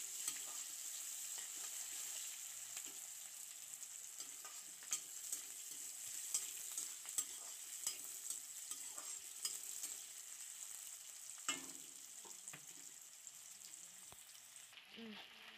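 Quiet, continuous sizzling of onions browning in a pan, with scattered stirring clicks and scrapes and no talk.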